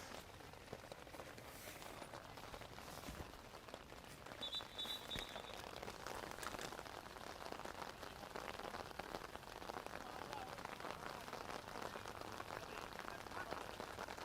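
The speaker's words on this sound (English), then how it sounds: "I'm sure you can hear the rain really coming down now." Heavy rain pouring down at an outdoor football match, a dense steady hiss of drops that continues without pause.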